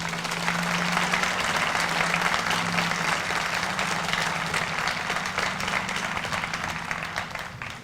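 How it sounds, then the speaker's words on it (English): Loud sustained applause from a crowd at an outdoor Black Lives Matter protest in Commons Park, Lake Mills, a dense wash of clapping that holds steady for several seconds and slowly eases off. "Please give her a round of applause."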